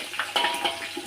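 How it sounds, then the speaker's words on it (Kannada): Water poured into a cooking pan of frying mushroom fried rice ingredients makes a brief, soft splashing hiss lasting about a second. "ನೀರು ಇಲ್ಲಿ ಹಾಕಳ್ತಾ ಇದೀನಿ"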